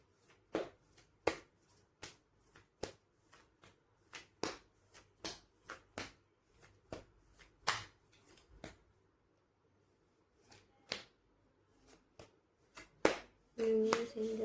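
Cards are shuffled and pulled out as a sparse series of close, soft slaps and flicks at an irregular rhythm, heard alone with a louder rustle near the end.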